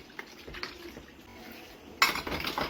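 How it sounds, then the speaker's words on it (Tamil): Pots and metal vessels are scrubbed and washed by hand, with scraping, soft clinks and splashing water that grow louder and busier near the end. "எல்லா பாத்திரத்தையும் தேய்ச்சி போட்டுருவோம்"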